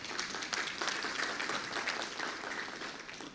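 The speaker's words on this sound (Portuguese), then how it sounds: "a gente convida e pede uma salva de palmas" An audience at a technology conference claps for the moderator, a steady burst of applause lasting a few seconds at moderate distance.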